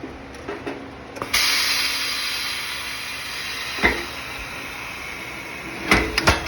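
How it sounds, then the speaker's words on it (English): An air-operated machine flattens a sheet-metal seam on a Herd GT 77 spreader. After a few clicks, a continuous pneumatic hiss runs for several seconds, broken by mechanical clunks near the start and at the end. "We're going to go over to this machine, which is an air-operated machine."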